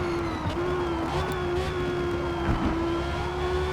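A Porsche 911 GT race car engine in a racing video game holds a steady, loud drone through the lap at Grand Oak, with no voices over it.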